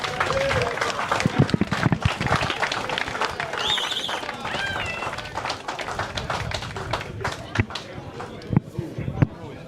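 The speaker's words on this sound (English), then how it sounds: "Give him a round of applause" Outdoor applause for a player at a cricket finals ceremony, sparse and scattered claps from a crowd mixed with chatter and a whistle, lasting several seconds.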